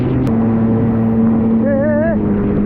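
A jet ski engine drones loudly and steadily while riding in Bahrain, with wind buffeting the mic and a brief wavering vocal sound near the end.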